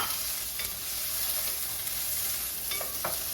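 Onions and peppers for a big pot of chili sizzle steadily in a pot, a continuous hiss with a few brief stirring clicks and scrapes.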